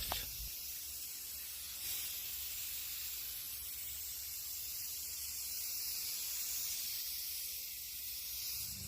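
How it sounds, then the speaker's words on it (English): Spray paint hisses from an aerosol can onto a taped-off thrift-store item, a steady bright spray of noise lasting several seconds with a brief pause near the start, close and fairly loud with no talk. "Once you get it all painter's taped up, it's time for our spray paint."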